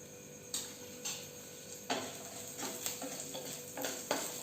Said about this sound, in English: So as the curry leaves is getting tossed